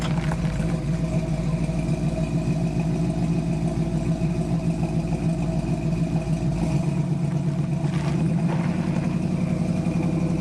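A 1971 Chevrolet Chevelle SS V8 on a test drive, heard from inside the cabin as a steady, loud low engine rumble that eases slightly toward the end, with no talking.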